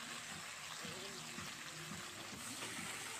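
Potatoes and beans fry with salt in a pan, a steady dense sizzle with occasional stirring clinks, close but faint, with soft talk underneath.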